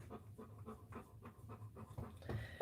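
A dog pants rhythmically and steadily at close range, its quick breaths repeating through the whole stretch with no other sound over it.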